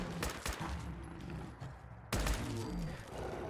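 Video game gunfire from a .45 caliber pistol in a Fallout 4 sidearms mod, a couple of sharp, dense reports with a brief gap between them, loud and alone.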